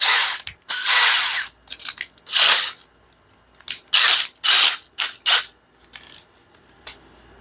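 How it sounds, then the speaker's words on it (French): A power drill bores pocket holes in wood, whining loudly up close in a series of short bursts of varied length with brief pauses between, and no talking over it. "On va la mettre sur notre drill."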